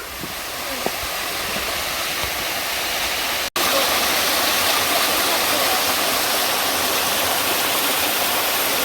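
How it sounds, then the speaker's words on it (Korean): Rushing water pours continuously in a loud, steady roar from small waterfalls in a mountain valley stream on Sorisan in Yangpyeong, South Korea, with a momentary dropout midway. "조금 조그만 폭포가 많다 야"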